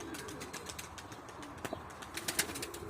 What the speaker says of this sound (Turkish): Şimdi video havada da kuş var.